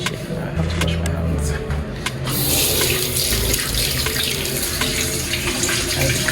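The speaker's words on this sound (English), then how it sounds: "I have to wash my hands." Tap water running steadily into a sink during handwashing, a loud continuous splashing rush that fills the whole stretch.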